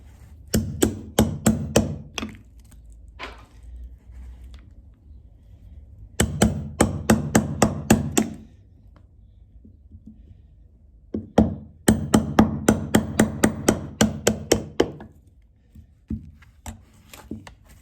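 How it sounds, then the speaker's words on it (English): Hammer striking a chisel while carving out a tomb, three clusters of rapid sharp knocks, loud and close, separated by quieter pauses. "we're going to try a chisel to chisel out the rest of the tomb"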